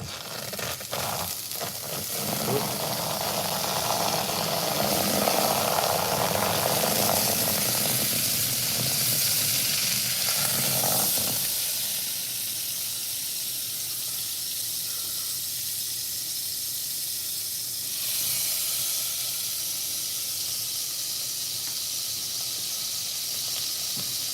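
Half a cup of butter sizzles loudly in a hot pan, making a steady, bright hiss that swells for several seconds and then settles into a quieter, continuous crackle.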